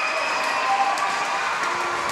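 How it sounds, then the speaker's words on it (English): Big vocal crowd of ice hockey supporters at Cockburn Ice Arena during a state semi-final, a steady, dense roar of cheering and applause filling the rink with no single voice standing out. "Big vocal crowd here today for WA supporters"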